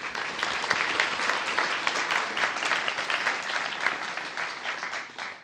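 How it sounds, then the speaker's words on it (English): An audience at a guide dog graduation ceremony applauds a graduate, a dense, steady clatter of many hands clapping that fades slightly at the end. "Let's give her a round of applause."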